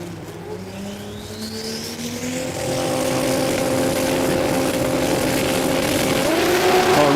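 A drag racing car launches wheels-up at Willowbank Raceway in Australia, its loud engine building and rising steadily as it pulls away, with no talking over it.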